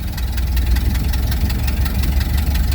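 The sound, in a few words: Ford Model A car engine running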